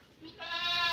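A goat in a livestock pen gives a single bleat that rises and wavers, fairly faint against quiet surroundings.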